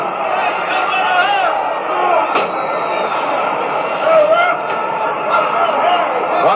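A capacity crowd fills Cobo Arena at a wrestling match, a steady dense murmur of many voices with a few louder swells, heard close and loud throughout.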